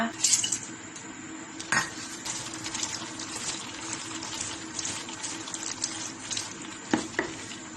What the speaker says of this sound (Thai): เดี๋ยวเราจะเอาไปล้างน้ำ ผ่านน้ำสักสองรอบก่อนที่เราจะเอามาต้มกันนะคะ